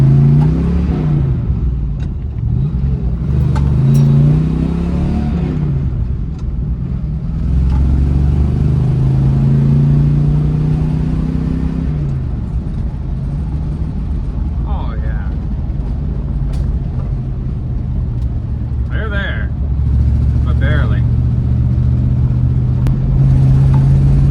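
1978 Chevy C30 dually truck, recently revived after sitting parked for 29 years, driven in low gear with a loud, steady engine rumble and rising revs heard from inside the cab, while a person talks briefly.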